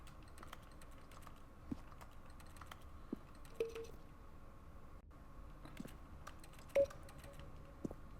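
Buttons clicked in The Stanley Parable, a sparse run of soft clicks and taps at irregular intervals over a quiet electronic hum, faint and close, with no talking.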